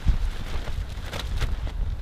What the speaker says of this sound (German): Es ist zwar immer noch so extrem windig